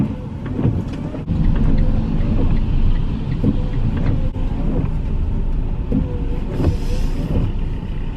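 A car drives at night toward a gas station, with a steady loud road and engine rumble continuing throughout and a few faint squeaks and clicks on top.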